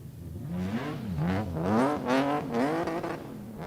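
Race car engines at an oval track, revving up and down in rising and falling sweeps as cars pass, loud and fairly close, with no talking.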